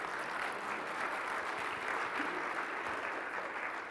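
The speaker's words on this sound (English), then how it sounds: "can we clap for Pam first of all?" A church audience applauds for a person named Pam, steady broadband clapping held at a moderate, fairly distant level throughout, with no clear voices over it.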